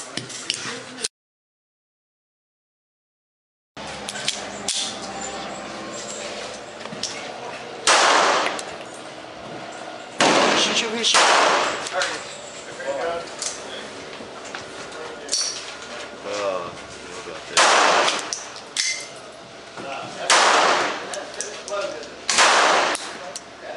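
Diamondback DB380 pocket pistol firing outdoors: sharp, loud gunshots come one at a time at irregular intervals, with a silent gap early on and voices talking between the shots.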